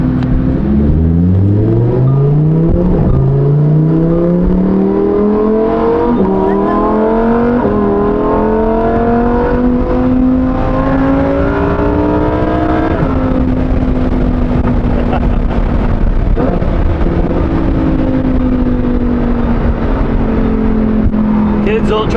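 A Lamborghini Huracan Performante's V10 engine revs hard and climbs through the gears, a loud, close, rising howl that shifts pitch repeatedly before settling into a steadier cruising drone.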